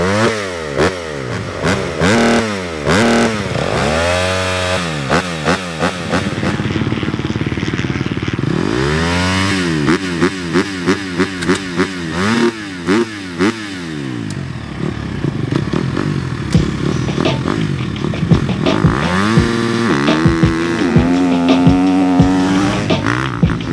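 A 2024 GasGas MC250F dirt bike rides a motocross track, its four-stroke engine loud and close, revving hard and dropping off repeatedly through shifts, jumps and corners.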